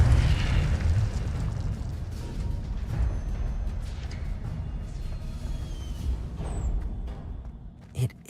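Incendio fire spell cast in a Hogwarts wizardry video game: a roaring, eruptive whoosh of flame that opens loud, then settles into a sustained crackling rumble before a short pop at the end.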